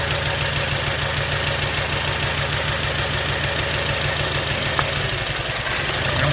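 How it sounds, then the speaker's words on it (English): An Acura engine idles with a misfire while an ignition coil is unplugged, a steady rough rumble with a rhythmic uneven pulse and knocking texture, loud and close with no talking. "Listen for the sound of the engine to go down if it's a good one."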